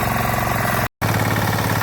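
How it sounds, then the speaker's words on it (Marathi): Tractor engine running steadily while ploughing a rice field, a close, even mid-pitched drone with a brief dropout partway through. "आपल्या शेतात आता एकाने नाही तर 2-2 ट्रॅक्टरने आता नांगरून घेत आहेत"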